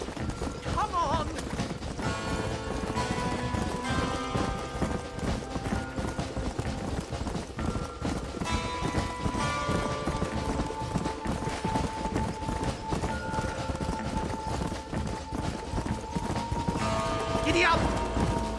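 Galloping horse in Red Dead Redemption, a continuous drumming of hooves under a dense game mix of music tones and scattered gunfire, with voices calling out across the scene.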